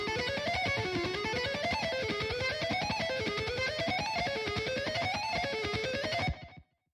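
A distorted lead electric guitar plays loud, sustained, continuous phrases that repeatedly climb and fall, heard alone before cutting off abruptly near the end.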